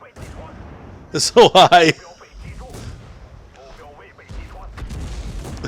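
World of Tanks artillery lets off a quick cluster of four sharp, loud shots in close succession, then falls back to low rumbling game noise while someone talks over it.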